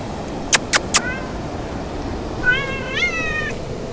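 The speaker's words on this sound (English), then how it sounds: "oh, there is a cat coming to the beach" A cat near the beach at a sea-view villa in Istanbul lets out three short, sharp meows close by, then a pause, then a longer, wavering meow, all over a steady outdoor background.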